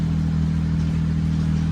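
A warmed-up BMW 335i with a smoking problem idles steadily up close, a deep, even engine hum with a low rumble and no talk.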